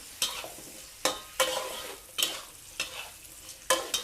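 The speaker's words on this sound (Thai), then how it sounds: "ผัดให้กลิ่นขิง กลิ่นกระเทียม กลิ่นรากผักชีมันออกมาก่อนนะ" Ginger, garlic and coriander root stir-fried in a pan over medium heat, with soft steady sizzling broken by about seven sharp scraping stirs at irregular intervals, close and moderately loud, no talking.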